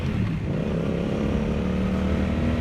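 Yamaha XSR700 motorcycle fitted with an SC Project exhaust, ridden in Hong Kong, giving a loud, close, steady engine drone that rises slightly in pitch as it pulls along.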